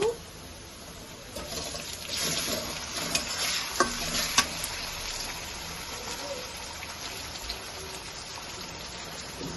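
Ginger garlic paste sizzles in a pan with fried onions, a soft, fairly quiet crackle with a few clinks and scrapes of stirring that swell briefly before settling back to a gentle fry.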